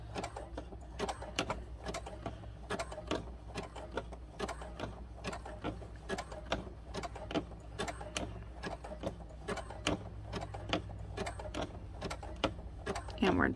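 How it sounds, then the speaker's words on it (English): Sewing machine running a steady zigzag stitch over a fabric-covered rope bowl, giving a continuous rapid mechanical clatter with a low motor hum, close and fairly loud. "So we're just going to continue our zigzag stitch until we get to that transition."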